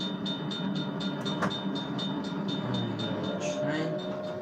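A train rolls past a level crossing in Forza Horizon 4, a loud near rumble with rhythmic clicking wheel beats and a steady tonal ring from the crossing, no talk over it.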